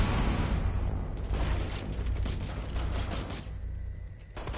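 Gunfire in the video game Rainbow Six Siege, a dense, loud fusillade of rapid shots and booms rolling almost continuously, with no talk.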